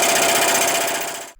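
An impact wrench hammers loud and continuous on a 36 mm spindle nut of an Acura TL, a steady rattling burr lasting over a second before cutting off abruptly, with no talk over it.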